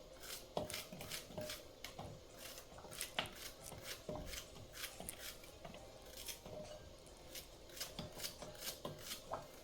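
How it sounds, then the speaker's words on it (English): Green plantains are cut for a Jamaican-style porridge, giving a quiet series of repeated scraping, knocking and rubbing knife strokes against a hard surface, close up with an uneven rhythm and no talking. "Cut them some more for the blender."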